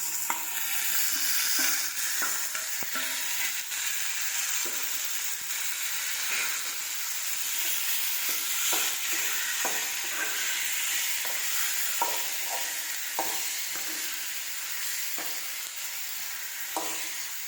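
Ginger garlic paste and tomatoes sautéing in a pan for a country chicken curry, with a constant close sizzle and frying hiss broken by repeated scraping strokes of a spatula, no voices.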